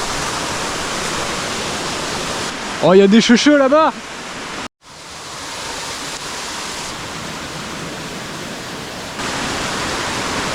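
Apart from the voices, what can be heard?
waterfall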